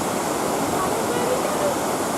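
A big waterfall in Ireland's Wicklow Mountains gives a steady, unbroken rush of falling water, fairly loud and even throughout, with no other distinct sounds standing out.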